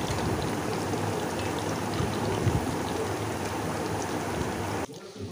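Pieces of jackfruit sizzle steadily in hot oil in a pan over a medium flame, a continuous crackling hiss close by that cuts off abruptly near the end.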